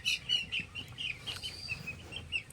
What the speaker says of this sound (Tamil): இது வந்து 8வது நாள் குஞ்சு.